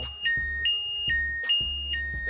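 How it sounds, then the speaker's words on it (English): Ridstar Q20 e-bike alarm system sounding, a loud electronic siren alternating between two high tones in a rapid repeating cycle, close and alone without speech. "that's how the alarm system works."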